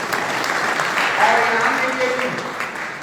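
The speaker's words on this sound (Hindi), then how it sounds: "और इनाम के लिए भी एक बार जोरदार तालियां" Loud, steady applause from a convention crowd at the IMC Goa Convention 2021 fills the whole stretch, with someone speaking over it.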